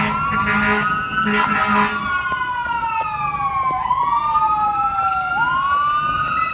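A loud ambulance siren wails continuously, its pitch sweeping up and down in long rising and falling cycles, close by.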